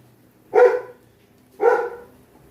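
A dog gives two short, loud barks about a second apart, close by, with nothing else but faint room noise between them.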